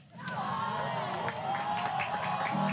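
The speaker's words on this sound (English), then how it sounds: "that's a very lively crowd" A lively sold-out softball crowd of Knight and Sooner fans at an Oklahoma vs UCF game cheers and shouts steadily and loudly, with a broad, continuous roar filling the stands.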